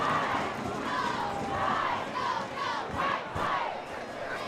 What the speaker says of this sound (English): This crowd is all kinds of fired up.